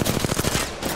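Rapid gunfire in the video game Apex Legends at Storm Point, a fast burst of shots rattling in quick succession, loud and close with no talk over it.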